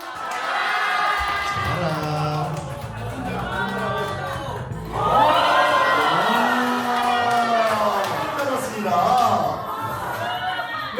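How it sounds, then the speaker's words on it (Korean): At a Korean first-birthday party, a crowd of guests shouts a short phrase together in unison, loud, roomy voices rising in a couple of bursts. "제가요, 서해야라고 외치면 다 같이 잡아라! 라고 외쳐주세요"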